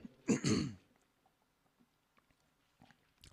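A single harsh throat clearing up close, brief and loud, followed by near silence with a few faint small noises.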